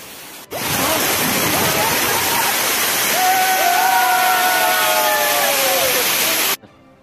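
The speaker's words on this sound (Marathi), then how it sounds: "मंदिराच्या खालील आणि वरील बाजूस अज्ञात असे खूप धबधबे आहेत" Waterfalls tumbling beside a temple at Mirgad Fort in Maharashtra, a steady, loud rushing roar of falling water that fills the whole stretch, with a faint higher tonal whine passing through midway.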